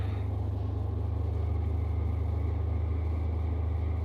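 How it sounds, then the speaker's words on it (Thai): Road traffic idles and rumbles at a red light in Thailand, a steady low engine drone close by with no clear passes or horns. "เสียงรถดังแห้งเนาะ"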